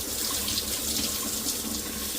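Water runs steadily from a tap while a K&N air filter is rinsed under it. The close, continuous gush is heard alone.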